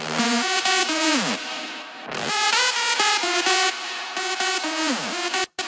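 An uncompressed synth drop from a Latin-flavoured electronic track, loud, dense chords with gliding pitch bends, sustained throughout with a brief break near the middle and a sharp dropout just before the end.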